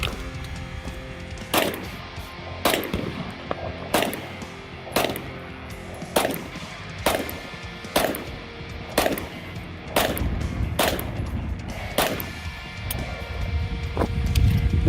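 Springfield Hellcat 9mm pistol fired outdoors in the desert, a steady series of about a dozen sharp, loud shots spaced roughly a second apart, with no talking.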